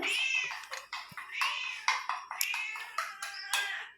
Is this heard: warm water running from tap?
no